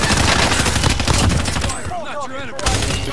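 Rapid bursts of gunfire in the video game Warzone Resurgence, a loud, dense fusillade close by, with players' voices talking over the shooting.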